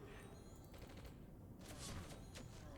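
Turret gunfire in the Entropia Universe video game, a steady dense barrage of rapid shots and thumps running through the whole stretch, moderately loud with no clear pauses.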